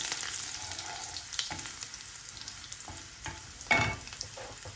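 Garlic cloves fry in hot oil in a pan with a steady soft sizzle, with a few louder crackling bursts and stirring scrapes, close and alone.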